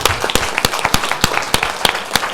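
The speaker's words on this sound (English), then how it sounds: "Let's give them another round of applause." Audience applause at a school board meeting after a middle school performance: a smattering of separate, sharp claps in an uneven rhythm, close and moderately loud, with no speech over it.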